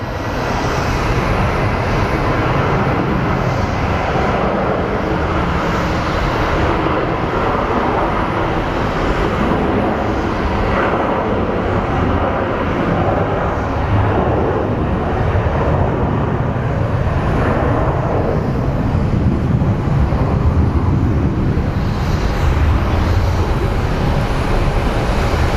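A Southwest airliner takes off at Phoenix Sky Harbor airport in a strong crosswind, its jet engines roaring loud and steady throughout at close range, with no talk.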